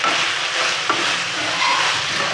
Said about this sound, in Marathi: म्हणजे छान आपण ह्याला मस्त परतून घेऊया.